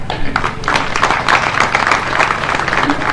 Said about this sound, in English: So I think she deserves a hand clap.